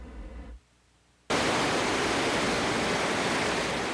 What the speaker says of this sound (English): the waves are crashing ashore on Galveston Beach